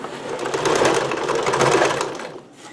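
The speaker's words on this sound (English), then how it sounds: "now we're just going to sew along the pinned edge." A sewing machine runs steadily, stitching along the pinned, folded edge of an apron made from a Dickies work shirt, its rapid needle whir close and continuous before easing off near the end.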